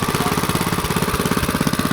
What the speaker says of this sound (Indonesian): mereka menggunakan mesin seperti ini teman-teman, mesin kompresor seperti ini